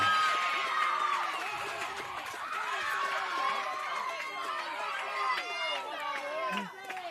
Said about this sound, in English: And the crowd have erupted